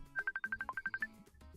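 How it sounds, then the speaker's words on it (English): A phone rings with a quick electronic melody of about a dozen short, evenly spaced beeping tones, fairly faint and close, ending with a lone fainter beep. "Ooh, I'm getting phone calls."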